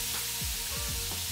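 Bacon and beef combo sizzles in a hot pan, a dense close crackling fry that holds steady through the short stretch with no one speaking.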